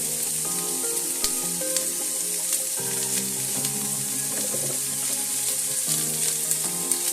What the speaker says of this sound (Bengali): শিম আর বেগুনটা দিয়ে খানিকক্ষণ নাড়াচাড়া করে নেব।